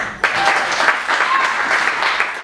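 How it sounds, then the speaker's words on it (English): An open mic comedy crowd bursts into applause, clapping starting abruptly and staying lively and close for a couple of seconds before cutting off. "Give yourself a round of applause"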